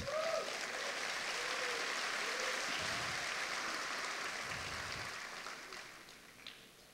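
A church congregation claps in applause during a sermon, a dense steady patter that fills most of the clip before thinning and fading toward the end.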